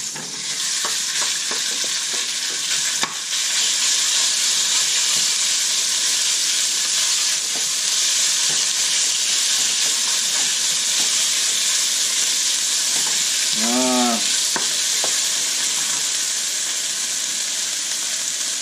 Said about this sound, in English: Put a couple teaspoons of oil, and let's cook the beef.